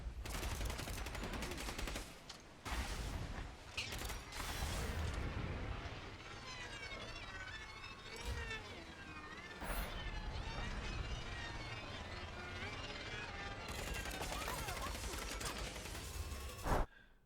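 Bursts of AK-30 rifle fire from the game Scavengers sound in repeated volleys, some fast and dense, broken by short pauses and mechanical handling noises.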